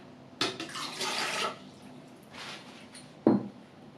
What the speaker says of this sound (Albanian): në mikser si fillim do shtojmë ujin